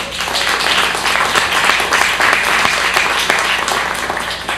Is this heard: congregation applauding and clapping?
yes